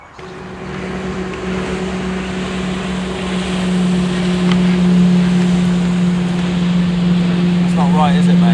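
A motorboat on a lake runs with a steady low engine drone that gradually swells louder, with wind and water noise around it and people talking over it.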